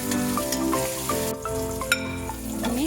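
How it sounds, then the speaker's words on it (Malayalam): Spring onion sautéing in a hot pan for beef chilli gives a steady, continuous sizzle with a few light clinks of a utensil, close and alone with no talking. "സ്പ്രിംഗ് ഓണിയൻ ചേർത്ത് കൊടുക്കുക, ഒന്ന് വഴറ്റിയെടുക്കുക."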